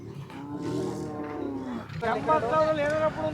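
Bullocks moo nearby at the large Devaragudda cattle fair, a low drawn-out call followed by a higher, louder bellow, with faint background noise.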